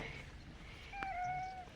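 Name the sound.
cat meowing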